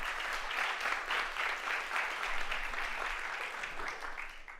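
Applause from a seated audience at an environmental education conference award ceremony, a steady, fairly quiet wash of many hands clapping with slight pulsing, heard from a distance and without speech.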